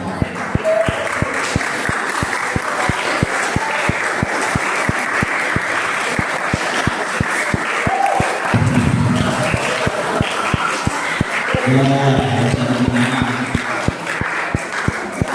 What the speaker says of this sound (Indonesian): Tepuk tangan itu untuk hura-hura